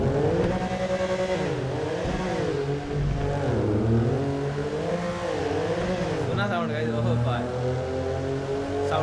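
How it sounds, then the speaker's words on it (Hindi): A new Lamborghini Huracan's engine revs loudly and close on an open road, its pitch rising and falling in repeated surges before settling into a steadier, lower drone, with someone talking at times over it. "साउंड सुनना गाड़ी का गाइस"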